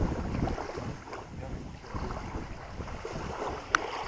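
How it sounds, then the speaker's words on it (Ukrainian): Wind gusting over a river with waves lapping and sloshing, a continuous rough wash with a faint click near the end. "Дивіться, який вітер зійнявся."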